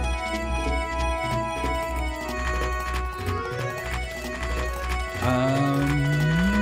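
Horse hooves clip-clopping in the Suikoden III video game, a steady rhythmic trot of hoofbeats under game music with rising melodic tones.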